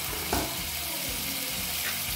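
Chopped ginger sizzles in hot mustard oil for a zucchini stir fry. The frying is a soft, steady hiss, with a brief stirring clatter near the start.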